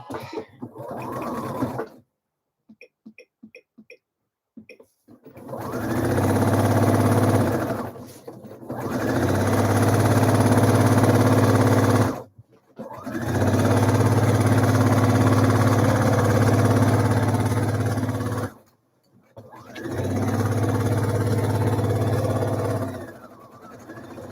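A home sewing machine stitches the button placket of a blouse in three long, loud, steady runs of whirring motor and needle hum, separated by short quiet pauses with small clicks of handling.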